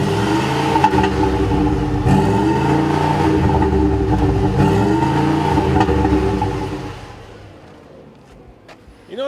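A heavy-duty pickup truck engine revs hard under full throttle from a standstill to 60 mph, its loud, throaty note climbing in repeated sweeps as it shifts through gears, then fading away near the end.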